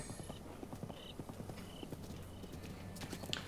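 A horse's hooves clip-clopping at a steady trot in Zelda: Breath of the Wild, with rhythmic close hoofbeats and faint ambient game chimes behind them.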